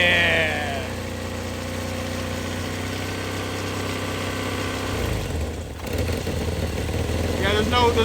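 A car engine with no alternator runs on battery power alone with a steady, fairly loud idle hum. Voices talk over it, and near the end the running sound roughens briefly.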